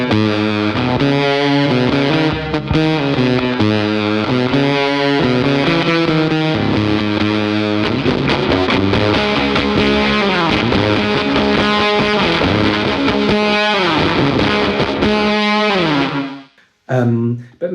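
An electric guitar played through an Embers Fuzz pedal set to an extreme bias sound gives a thick, sputtering, heavily distorted lead line of sustained notes and runs, loud and close, cutting off abruptly near the end.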